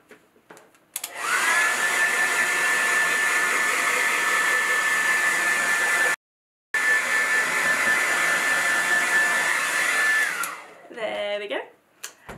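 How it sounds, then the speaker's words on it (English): A hair dryer blows with a loud, steady whirring hiss as it dries paint on a handmade vase, cutting out briefly midway, then switching off, followed by a short rustle. "So I'm just going to dry it now with the hair dryer."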